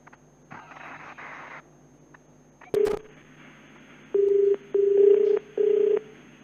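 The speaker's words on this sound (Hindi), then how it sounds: "एक बार फिर से जिलाधिकारी साहब को फोन मिलाया जा रहा है।" A phone call is dialed to the district magistrate's office: a faint hum, then a few key-press beeps, followed by three steady ringback or busy tones in a row, close and clear with no talking.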